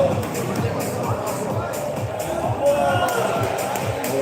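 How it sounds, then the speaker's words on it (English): Crowd at an armwrestling championship in Sydney reacting with a continuous murmur of disapproving voices and babble, steady and fairly loud, with a commentator talking over it. "the crowd didn't like that one"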